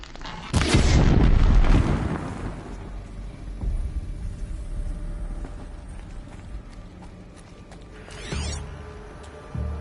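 Heavy gunfire rings out: a loud booming burst near the start followed by a rolling rumble and scattered fainter reports and mechanical clatter, with a sharper crack near the end.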